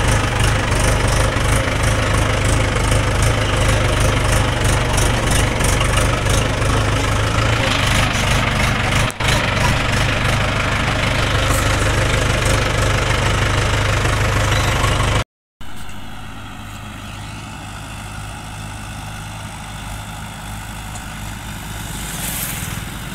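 A tractor engine idles on a farm with a loud, steady low knocking rumble that runs on without pause, cuts out briefly, then resumes more softly.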